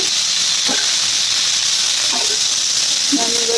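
Grated coconut frying in a pan for a radish chutney, a close, constant hiss-like sizzle with faint stirring scrapes now and then and no voice.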